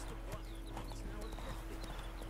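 Rhythmic clip-clop of horse hooves on a path in The Witcher 3, steady and fairly close, running under game music and a low hum with someone talking over it.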